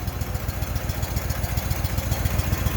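A Walker lawnmower engine idles steadily close by, its low, rapid chugging pulses running without a break and with no voices.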